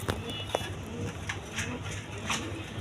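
Pigeons cooing softly nearby, low repeated coos over faint background noise, with a voice occasionally heard.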